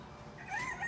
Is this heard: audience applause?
no